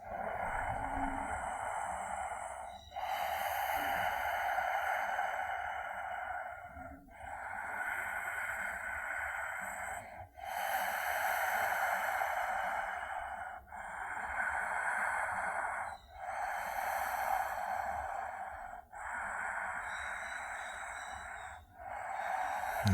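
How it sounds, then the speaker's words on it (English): Slow, deep breathing held during a gentle yoga pose for lower back relief, with about seven long, airy breaths in a steady rhythm, close and soft, and no talk. "Staying for 5 breaths."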